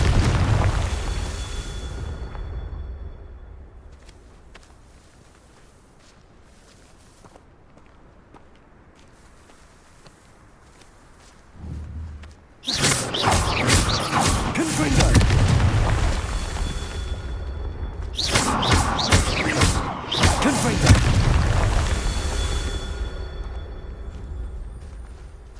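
Confringo fire spell explosions in the video game Hogwarts Legacy: heavy booming blasts in repeated clusters with crackling bursts, separated by quieter stretches of footsteps and ambience, loud and close.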